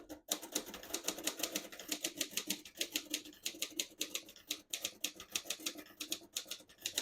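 Steady typing on a 1940 Royal Quiet De Luxe portable typewriter with glass keys: crisp, close mechanical keystrokes in quick irregular bursts, with brief pauses between runs of clacks.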